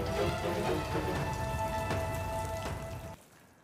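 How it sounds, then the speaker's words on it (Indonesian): Heavy rain pours down on Jakarta during flooding, a dense steady hiss of drops hitting surfaces that drops away abruptly near the end. "Hujan deras yang mengguyur Jakarta juga membuat sejumlah kawasan di Jakarta Barat terendam banjir."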